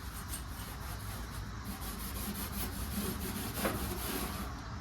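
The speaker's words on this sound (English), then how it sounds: "Before we seam seal this stuff, I do want to give it a light scuffing." Light scuffing of the bare metal floor of a 1979 Plymouth Volare wagon before seam sealing, a steady soft abrasive rubbing that continues without pause at close range.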